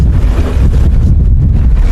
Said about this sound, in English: I don't know if you can pick up the wind in the mic